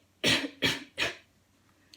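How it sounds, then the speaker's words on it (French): Three quick, close coughs in a row, evenly spaced, followed by quiet. "elle avait toussé"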